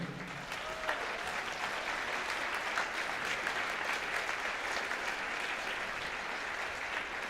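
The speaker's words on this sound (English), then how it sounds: "let's have a round of applause for all their work today" Steady applause from a large audience at an honor band concert, dense continuous clapping that holds at an even level throughout, with no voices standing out.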